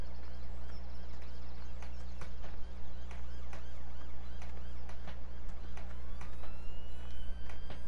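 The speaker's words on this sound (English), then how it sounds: "Here's some police sirens." Police sirens wail in the video game Farming Simulator 17, rising and falling over a steady engine-like hum, moderately loud and continuous throughout.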